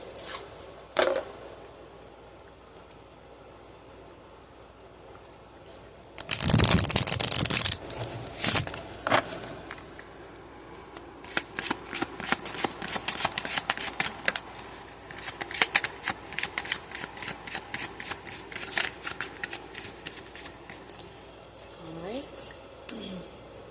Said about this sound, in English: we are also going to give her a Spirit Messages Oracle card